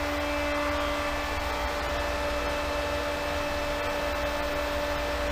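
An electric water pump plumbed into a 2-inch PVC system runs steadily, producing a constant loud hum with a broad hiss of flow noise and no voices.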